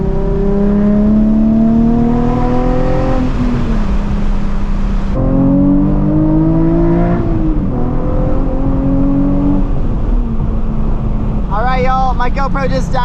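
An '06 Nissan 350Z engine revs hard through rising gear pulls at part throttle, a loud continuous drone that climbs, drops at shifts and climbs again, with a brief burst of crackle near the end.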